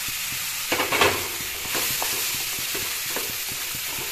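Close frying sizzle of tomatoes under a spatula stirring in a pan, a few sharp scrapes early then a steady hiss.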